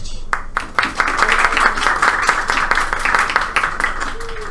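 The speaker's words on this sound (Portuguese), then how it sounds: "Palmas para o Robert." Audience at a book launch event for a Tolkien novel in Fortaleza, Brazil, clapping loudly and close by after a sharp opening bang, with a burst of claps that carries on steadily under some cheering and voices.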